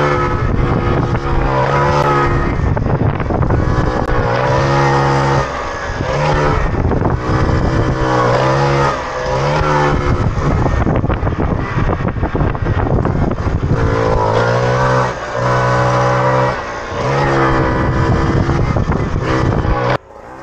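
A lightweight moped (mobylette) engine revs hard during wheelies, loud and close, its buzzing note climbing and dropping repeatedly as the throttle is worked over and over.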